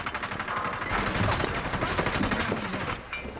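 Rapid automatic gunfire from the video game Hyper Scape, loud and continuous with dense overlapping bursts for a few seconds before easing off at the end.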